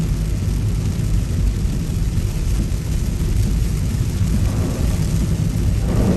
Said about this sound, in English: I guess you can hear all that lovely rain though.